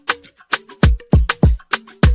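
A drum beat run through black box saturation, with thick, booming kicks and crisp snare and hat hits repeating in a tight, loud groove, with no voices over it.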